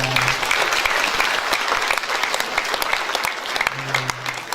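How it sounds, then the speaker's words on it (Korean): An audience at a charity event for disability welfare claps in sustained, dense applause, with a few sharp nearby claps and a faint tonal hum in the background. "우리 국장님께 큰 박수 한번 보내주시기 바랍니다"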